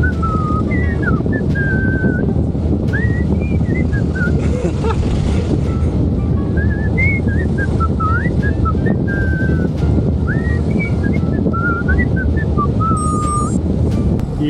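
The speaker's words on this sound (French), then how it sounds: "je m'amuse à chanter, à siffler la musique des Schtroumpfs pour voir un peu la réaction des gens" A person whistles the Smurfs theme tune outdoors beside Loch Ness, the bright melodic phrases repeating steadily over constant wind and background rumble.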